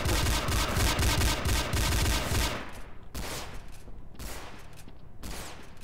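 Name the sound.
repeated gunshots from a video game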